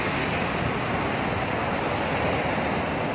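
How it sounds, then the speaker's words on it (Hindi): Strong cold wind blows steadily and loudly outdoors, a dense unbroken roar buffeting the microphone throughout with no voices. "बहुत ही ज़्यादा ठंडा है, मज़ा आ रहा है, हवा चल रही है।"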